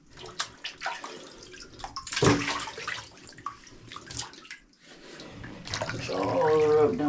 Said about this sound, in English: rub the length of this rope through your hands as a means to scrub off any dirt and get it in the water